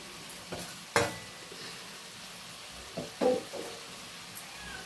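Vegetables being sautéed in a pan for rohu fish curry with a soft sizzle beneath, broken by a few distinct knocks and scrapes of a spatula against the pan.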